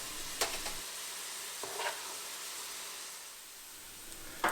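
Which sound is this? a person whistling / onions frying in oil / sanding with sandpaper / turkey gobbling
onions frying in oil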